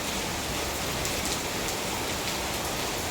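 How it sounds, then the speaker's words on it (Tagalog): Heavy rain pours steadily onto surfaces outside near a condominium building, a dense, even hiss that stays loud and constant from start to finish with no voices. "Grabe yung ulan, guys."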